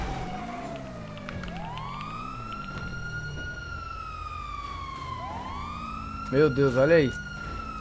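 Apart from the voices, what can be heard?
police car siren in a video game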